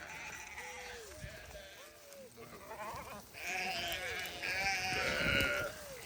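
Sheep on spring pasture bleat repeatedly, several overlapping calls at moderate distance, over a steady outdoor background with someone talking among them.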